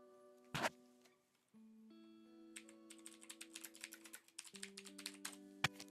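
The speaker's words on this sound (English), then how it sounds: "Typing and looking up a building." Typing on a computer keyboard while searching for a building reference, a steady run of quick, light key clicks close up, fairly faint, with no talk.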